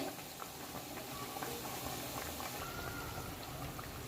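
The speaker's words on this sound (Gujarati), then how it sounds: "આપણે ધીમા ગેસે તળવાના છે" Bajra flour and fenugreek vadas fry gently in oil on a low flame, a soft, even bubbling and fizzing that stays low and constant throughout.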